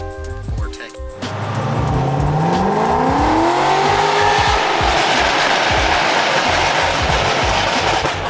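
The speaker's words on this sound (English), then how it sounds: "this thing sounds good. It's got a Corvette motor in it." A car fitted with a Corvette 6-liter engine roars loudly, revving up from low to a rising, sustained high-pitched howl as it accelerates close by.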